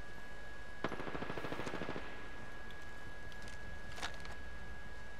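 Rapid automatic gunfire from a gun in the video game Apex Legends rattles in a dense burst, followed by a brief second burst, with a faint steady game tone underneath.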